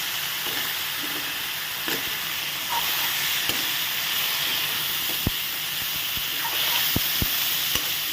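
Soaked masoor dal with chopped garlic frying in a hot pan for an Assamese dish, a steady close hiss and sizzle with a few sharp pops and scraping stirs, no voices.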